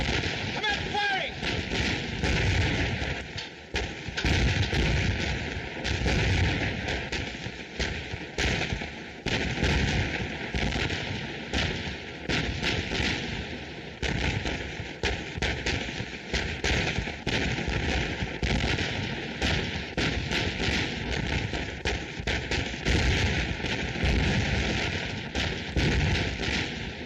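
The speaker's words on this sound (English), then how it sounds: "Commence firing." Movie battle scene of dense, continuous gunfire and artillery blasts, loud sharp reports overlapping in rapid rhythm throughout, with shouted voices now and then under the barrage.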